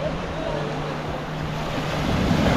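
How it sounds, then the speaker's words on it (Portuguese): Ocean waves washing ashore at high tide on Ponta de Mangue beach near Porto de Galinhas, a steady broad roar of surf with wind rustle, swelling slightly louder toward the end. "E olha que mar bonito, a maré tá bem cheia."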